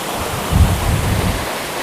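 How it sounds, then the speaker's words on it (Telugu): A large waterfall roars as a steady, dense rush of water close by, loud and unbroken, with a brief low rumble in the middle. "ఫైనల్ గా అయితే వాటర్ ఫాల్ కి చేరుకున్నాం. చూడండి ఎంత పెద్దగా ఉందో."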